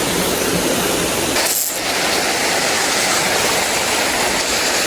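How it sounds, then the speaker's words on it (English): A waterfall on a trout creek roars as a loud, close, constant rush of falling water that fills the whole clip, briefly dipping once. "look where I'm standing. Underneath this beautiful waterfall"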